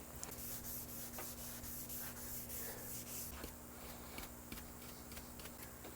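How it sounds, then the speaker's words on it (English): Steady hand sanding of a custom guitar's finish with fine-grit acrylic sandpaper, a continuous soft rubbing scratch, close and fairly quiet, with small ticks along the way. "This is super acrylic sandpaper."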